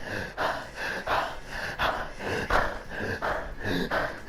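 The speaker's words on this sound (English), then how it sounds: "He ain't breathing, this man be gasping." Repeated ragged gasping breaths in an anime scene, a man struggling for air in a steady rhythm of about eight sharp inhale-exhale bursts, close and fairly loud.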